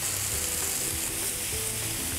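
Chopped mushrooms and finely sliced celery fry in a pan, giving a steady close sizzle and crackle with faint stirring, and no one speaks over it.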